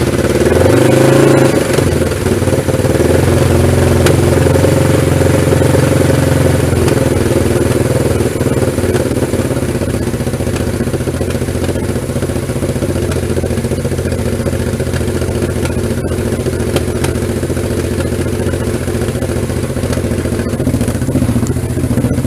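Suzuki GS1000 motorcycle engine with the exhaust baffle removed, running loud and close with a deep, throaty, steady idle and slight clatter, continuous throughout without talking.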